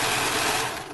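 A serger sewing machine stitching a seam on hair-bow fabric, a brief loud close mechanical whir running steadily before trailing off at the end.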